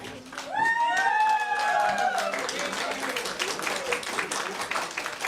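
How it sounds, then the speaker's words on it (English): A packed courtroom erupts into applause and cheers after a guilty murder verdict, loud sustained clapping with voices rising over it, including high shouts at the start, then settling into continuous clapping. "The courtroom was full and erupted into cheers and applause after the verdict came down."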